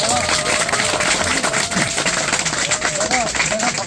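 Applause from a gathered crowd at a hunger-strike site visit by a provincial governor, a dense, steady wash of clapping that runs the whole time while voices carry faintly underneath.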